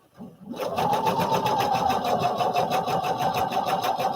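A sewing machine whirs up from silence and keeps running steadily, its rapid needle rhythm stitching a seam on a Butterick 5967 garment, loud and close.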